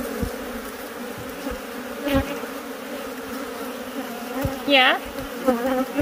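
Killer bees from a hive box keep up a loud, dense buzzing close by, with individual bees zipping past near the listener; a person briefly speaks over the swarm.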